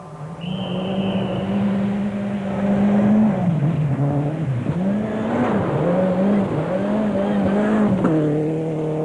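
A rally car at the 1989 Silverstone event, its engine loud and close, revving up and down in a wavering, changing pitch as it corners through the twisting circuit, with a brief high squeal near the start.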